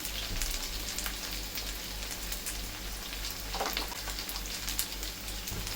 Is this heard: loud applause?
no